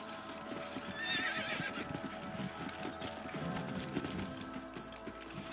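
Horses whinny in the video game Red Dead Redemption while hooves clop steadily underneath, with a busy background of ambient noise and faint voices mixed in.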